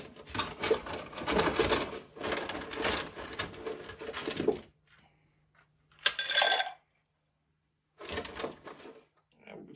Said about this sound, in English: We're going to throw some ice in here, give this a stir, and then strain that out.